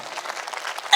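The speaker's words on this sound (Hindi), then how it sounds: "जरा सीवान वाली तालियां मुझे मिलनी चाहिए" Audience at a mushaira applauding, a brief burst of dense clapping from a crowd, moderately loud and continuous across a single second.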